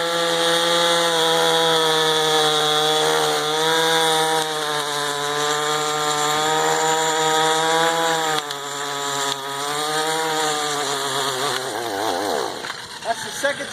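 An Echo chainsaw runs at a steady high-pitched whine, close and loud. The engine wavers and bogs at the end as it runs out of gas.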